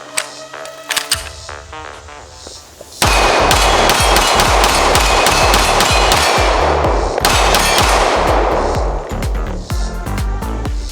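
A Sig P320 XTEN 10mm pistol fires 180-grain XCOR full metal jacket rounds in a rapid string of loud, sharp shots close by, after a few slower opening shots, with gun-range echo between reports.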